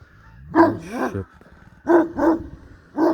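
A dog barks in short bursts, two then two more then one, fairly close, with quiet pauses between and no talking.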